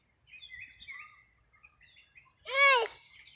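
Birds call and chirp outdoors in a few thin, scattered notes, then one loud, close harsh squawk near the end, with no talk heard over them.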